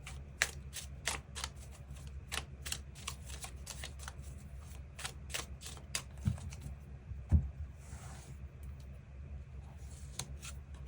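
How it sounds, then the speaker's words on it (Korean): Tarot cards being shuffled by hand at close range, a steady run of crisp riffling and snapping bursts with a few louder slaps, over a low background hum and no talking. "추가 카드 뽑아보도록 하겠습니다"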